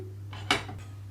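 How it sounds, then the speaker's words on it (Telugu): A metal dosa pan set down on a stove: a single close, sharp clank with a brief ringing tail over a low steady hum. "దోశ పాన్ పెట్టుకున్నాను"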